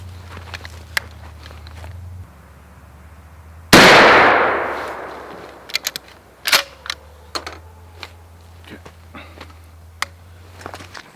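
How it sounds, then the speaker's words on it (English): A single loud shotgun blast fired at a target while sighting in new glow sights, a sudden close boom with a long decaying tail, surrounded by faint clicks and handling noises. "this will be my first shot with this shotgun"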